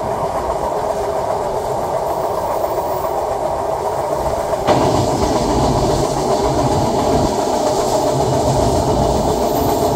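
The Rupasi Bangla Express runs on after crossing the Padma Bridge in Bangladesh, a loud, steady rumble with rhythmic wheel clatter throughout and a brief sharp jolt midway.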